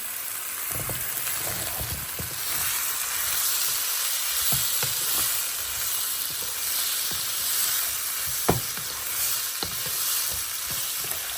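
Raw green banana pieces fry in hot oil with prawns and spices, giving a steady, close sizzle throughout, punctuated by occasional light clicks of stirring.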